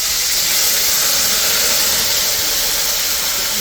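Ginger and cumin paste hits hot oil in a pan, giving a loud, steady sizzle that hisses without pause.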